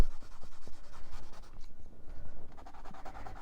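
Soft, rhythmic scratching of hard graphite pencil shading across paper in quick back-and-forth strokes, close and quiet, with a brief pause midway.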